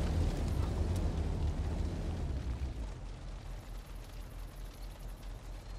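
A vehicle burning in the military video game ARMA Reforger, a loud continuous roaring rumble that gradually thins out into a steadier crackling hiss, with no voices over it.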